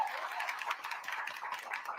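An audience at a Village of Dolton board meeting applauds with faint, steady clapping from across the room, with no voices over it.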